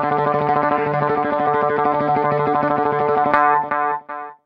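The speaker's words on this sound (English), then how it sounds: "play an open string and you just trem pick it" An electric guitar rapidly tremolo-picks a single sustained open note, fast and even, then stops and leaves short delayed echoes trailing off.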